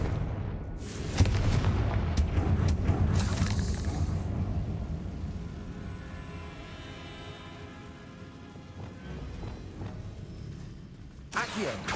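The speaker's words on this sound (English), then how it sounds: "Confringo!" Spell explosion from the Confringo curse in the video game Hogwarts Legacy, a loud booming burst near the start with crackling debris and rumble that gradually fade, then another sharp burst at the end.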